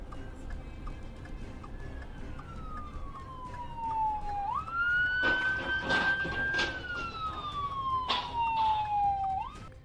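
A stolen police car's siren wails with a slow falling and rising tone, loud and steady throughout, as bursts of traffic noise and rattling rise partway through.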